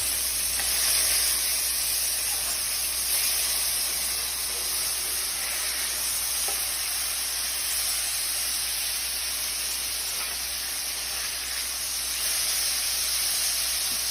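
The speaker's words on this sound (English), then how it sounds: "Right now it's time to flip your burgers when you start to get the juices pooling on top of the meat." Burgers sear in a hot pan with a steady, even sizzle and hiss that holds at a moderate level throughout and sounds close, with no talking.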